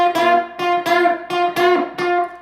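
An electric guitar plays a short lick of six quick, punchy double-stop strums in an even rhythm, bright and close, with no voice over it.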